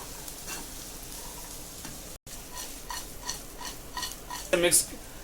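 Fried corn kernels and onions coated with cornflour being mixed in a pan, soft repeated scraping strokes over a faint sizzle, ending with a louder clink of the spoon against the pan.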